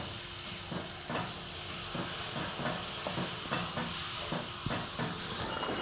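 Curry leaf paste sautéing in a pan for a tamarind curry, giving a steady, close sizzle and hiss that continues throughout with no talking.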